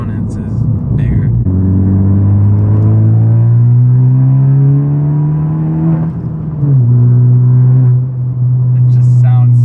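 Turbocharged Honda Civic Si with a bigger aftermarket turbo, its engine and exhaust droning steadily and loudly in the cabin, the pitch climbing slowly and then dipping as the throttle is released, with a brief hiss near the end.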